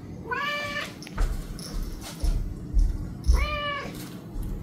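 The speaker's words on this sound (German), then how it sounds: "Du miaust doch die ganze Zeit, weil du rausgehen möchtest, oder?" A house cat meows to be let outside, giving two clear, drawn-out meows a few seconds apart with faint thumps and movement between them, and nobody speaking.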